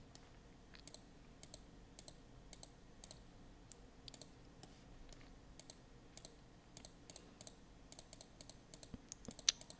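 Light computer clicking while making selections in Affinity Photo: many faint, sharp clicks arrive in irregular rapid runs across the whole stretch over quiet room hiss, with one slightly louder click near the end.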